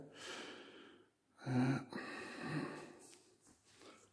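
Heavy breathing right into the microphone during an apartment walkthrough, a few close, rough breaths and snort-like exhales with uneven pauses between them, with no words.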